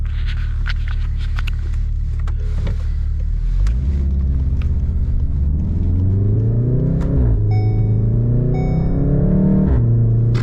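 A Volkswagen Golf 7 R with a new loud aftermarket exhaust idles with a deep burble, then revs up and down twice in rising, rumbling sweeps, close and loud.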